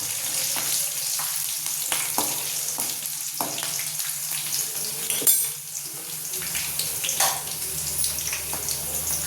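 Green chillies fry in a pan of hot oil with a steady broadband sizzle and crackle, a few sharper pops and spatters standing out, loud and close, with no talking.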